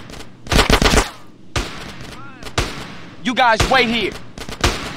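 Gunfire in GTA San Andreas during a gang fight, with several loud bursts of rapid shots, some overlapping. Someone speaks between the volleys.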